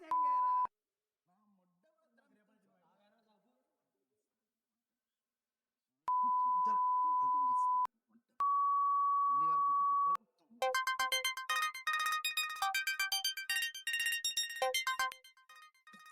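A phone sounds a few isolated electronic beeps, then bursts into a dense, rapidly repeating ringtone melody. The sound is quiet overall, with long near-silent gaps between the early tones.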